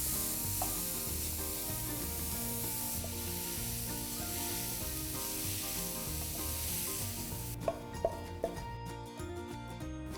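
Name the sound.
stirring onions and chopped broccoli in a frying pan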